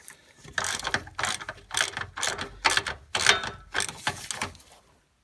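A hand ratchet loosens 13 mm bolts on the band of a fuel filter bracket on a GM truck, giving seven or eight close, loud bursts of rapid clicking in an even rhythm before stopping.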